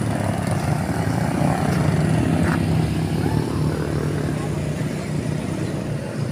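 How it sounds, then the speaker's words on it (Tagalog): A motorcycle rides across a shallow river at Tinucan, Tanay, Rizal, its engine a steady low drone alongside constant rushing water, with someone talking over it. "tatawid natin yung motor dito."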